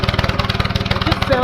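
Small engine on a shed tractor or mower running rough and uneven with a fuel problem, loud and close, its rapid sputtering pulses throbbing irregularly with no talk over it.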